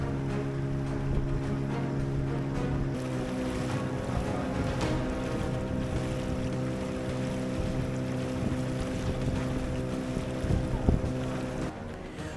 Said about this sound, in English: The boat ride to Kabale mainland was pleasant and uneventful.